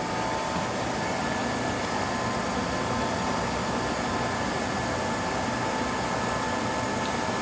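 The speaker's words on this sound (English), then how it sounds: "we're going to turn on the vacuum. So we flip this, everything's all hooked up. And we flip this thing on." Vacuum pump on an Oxford 700 Cryostream running steadily, a loud, even broadband rush and hum with no change in pitch or level and no talking.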